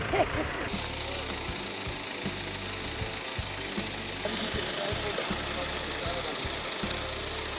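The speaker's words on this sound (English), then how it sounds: "Here comes the tractor." A tractor engine runs steadily close by, a constant low rumbling drone with a rhythmic knocking pulse throughout, while someone talks over it.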